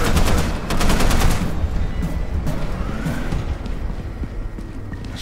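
In the video game Content Warning a turret fires a fast, loud burst of rapid shots that rattles close by for about a second and a half, then gives way to a continuous rumbling, noisy game background.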